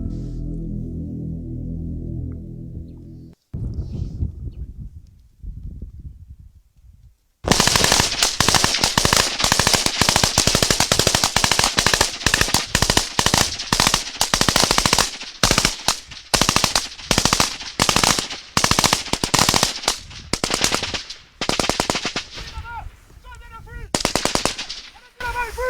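Rapid bursts of loud machine gun fire rattle on and off during combat in woods in Burkina Faso, with scattered single shots and brief pauses; a low hum precedes the shooting.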